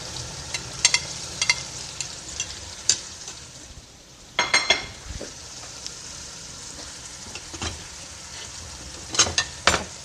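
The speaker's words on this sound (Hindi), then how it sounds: "चिकन को इसमें अच्छी तरह से फ्राई करेंगे 5 से 7 मिनट।" Chicken frying in a pot with black cardamom and a piece of cinnamon: a soft continuous sizzle punctuated by sharp spoon scrapes and clinks against the metal, close up, with no talking.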